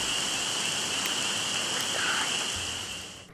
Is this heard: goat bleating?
no